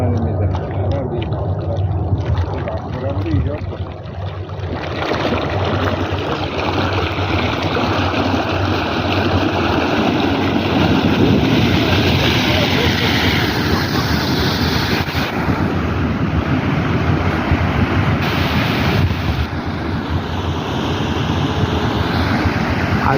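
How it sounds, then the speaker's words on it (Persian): Water shoots at least ten metres into the air from the ground outdoors, making a steady, loud rushing roar, with wind buffeting the microphone throughout. "حداقل 10 متر آب پرتاب میشه."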